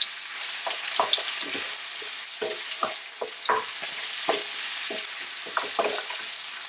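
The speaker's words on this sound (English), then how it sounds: "Now we're going to coat the ribs with the sugar syrup." Pork ribs fry in a pan of bubbling sugar syrup for sweet and sour ribs, a steady close sizzle broken by frequent short scrapes and clacks as they are stirred and turned.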